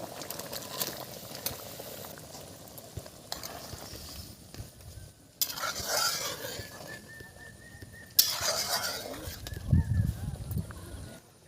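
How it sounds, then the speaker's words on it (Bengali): Prawn malai curry with green chillies bubbling in a pot as bagda prawns are dropped in, soft steady simmering broken by several sharp clanks and splashes of ingredients and utensils. "তেলের মধ্যে দিয়ে দিচ্ছি কাঁচা লঙ্কা ঝোল ফুটছে এবারে চিংড়ি মাছগুলো দিয়ে দিচ্ছি"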